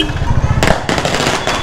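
Firecrackers bursting during a Diwali celebration in Patna, a loud sharp crack followed by a rapid crackling burst, with a voice calling out over it.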